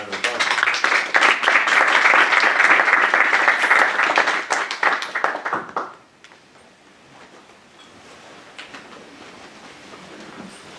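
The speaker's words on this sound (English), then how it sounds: "let's give it another round of applause" A crowd claps loudly and steadily after a talk, and the applause swells for about six seconds before quickly dying away, leaving quiet room noise and faint voices.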